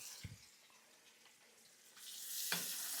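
Food dumped into a hot frying pan in a home kitchen starts to sizzle after a couple of soft knocks, a faint hiss that swells to a steady, louder crackle with no talking.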